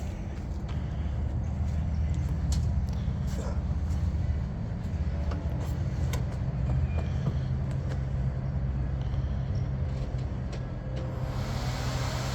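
A 1965 Chevy Nova's engine runs in an auto repair shop, a steady low rumble that holds close and even for the whole stretch, with no clear moment of cranking.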